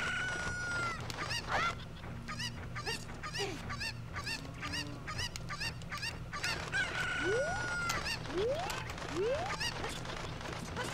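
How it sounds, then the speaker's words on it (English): Chickens clucking and squawking in the video game The Legend of Zelda: Ocarina of Time, a string of repeated sharp clucks with rising cries over a steady looping game tune, no talk. "you can take a chicken up here"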